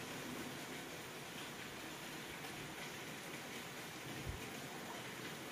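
Heavy rain pours outside in a dense, steady hiss, faint and distant, with no break across the whole stretch.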